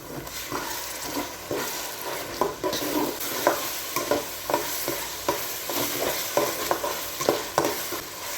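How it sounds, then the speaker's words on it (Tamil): Ground tomatoes stirred into onions and garlic frying in a pan for a dried-fish curry, with steady sizzling and repeated scraping spoon strokes at close range, no voices. "வெங்காயம் பூண்டெல்லாம் நல்லா வதங்கிடுச்சு நம்ம தக்காளி சேர்த்துக்கலாம்"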